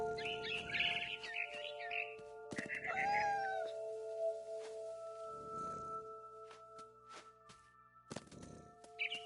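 A cat meows and caterwauls in the video game What Remains of Edith Finch, several drawn-out calls mixed with chirping bird sounds and a sustained tonal music bed, with no talking.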